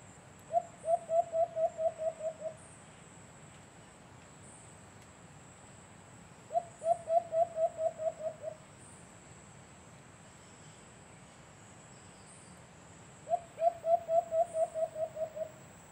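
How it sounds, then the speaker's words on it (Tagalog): A decoy alimokon dove calls to draw in a wild dove during a hunt outdoors: three separate bursts of rapid repeated cooing notes, each a rising then fading series, spaced several seconds apart over steady insect hum. "Pinapalapit niya na yung alpas. Kaya ganyan yung huni niya."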